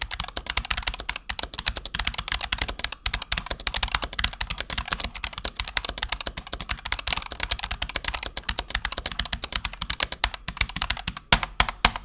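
Fast, heavy typing on a loud mechanical keyboard with unlubed stabilizers produces dense, rapid clacking keystrokes, close and prominent, continuing steadily throughout with no talking.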